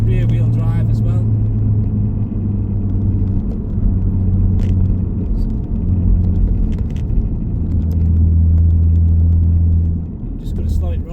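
A 1999 Nissan Skyline R34 GTT with a 2.5-litre single turbo, rear-wheel drive and about 300 bhp, fitted with an East Bear GTR styling kit, drones with a steady, loud low engine rumble from inside the cabin as it eases off, while someone talks over it.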